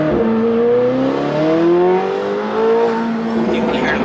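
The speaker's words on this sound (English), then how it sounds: "You hear them turbos moving?" Car turbochargers whistle and spool while the car drives on a street near construction, rising and falling tones over steady engine drone, close and loud, with voices talking.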